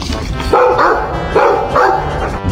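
A dog in a video game barks several times in quick, uneven bursts, loud and close, with the barks overlapping a low background of game ambience.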